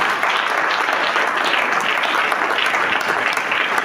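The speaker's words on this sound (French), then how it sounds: "je croyais que tu allais même acclamer très fort" A church congregation bursts into sustained applause and cheering, a dense, loud wash of clapping that holds steady from start to finish with no talk over it.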